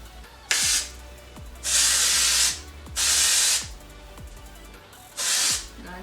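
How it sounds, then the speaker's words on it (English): Four bursts of Goldwell Creative Texture dry texture spray hiss onto hair in quick succession, each burst loud and close, separated by short quiet gaps. "This is the Goldwell Creative Texture, It's like a dry texture spray"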